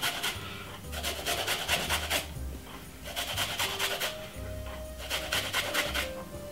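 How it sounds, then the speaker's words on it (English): Fresh ginger rasps against a kitchen grater in quick repeated bursts of scraping strokes, close and steady, with short pauses between runs. "I'm grating a piece of a ginger."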